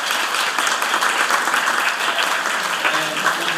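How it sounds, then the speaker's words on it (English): At an Oklahoma relief fundraiser in Virginia Beach, the audience claps for the organizing committee: a full, continuous roar of many hands, bright and sustained at an even level throughout. "let's have a big round of applause for the wonderful organizing committee"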